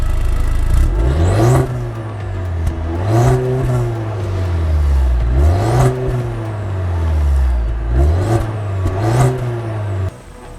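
A 2020 Cadillac CT4-V with a 2.7-litre engine accelerates hard on the road through several gears, the revs climbing and dropping at each shift, loud and close with no talking.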